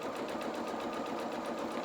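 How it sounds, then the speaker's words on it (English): Sewing machine sewing a deep zigzag stitch on felt doll bloomers; a steady, close, rapid chattering whir that runs without a break. "I'm just sewing so far"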